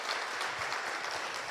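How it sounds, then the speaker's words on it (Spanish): A church congregation applauds during a worship service, a dense even clapping that fills the whole short stretch without any voices over it. "vamos a darle un fuerte aplauso al Señor"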